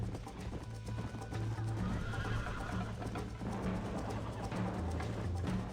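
A horse in Red Dead Redemption galloping with rapid clip-clop hoofbeats and neighing over a busy game soundscape, steady and fairly loud throughout.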